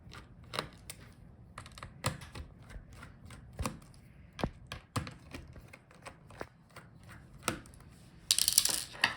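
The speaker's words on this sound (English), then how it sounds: "let's unscrew screws for the hinges" Small screws being unscrewed from the hinges of an Asus TUF FX505GT laptop during a teardown: a quiet series of irregular clicks and ticks from the screwdriver and screws, each one close and brief, with a harsher rattle near the end.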